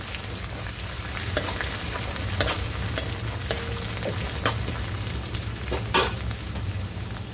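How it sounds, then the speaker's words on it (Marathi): Ginger, garlic and coriander paste sautéing in a pan for a Vidarbha-style dal kanda, a steady close sizzle and fry with scattered sharp stirring scrapes and clicks, no talk. "आणि हे 2 मिनिटं छान परतून घ्यायचं परत."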